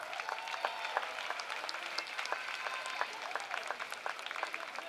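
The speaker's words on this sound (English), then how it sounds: "Please give them a nice round of applause." Applause at a December commencement ceremony, a moderately sized crowd clapping steadily with distinct individual claps standing out, fairly faint and distant in a large hall.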